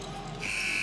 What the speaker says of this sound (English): buzzer sounds, play continues.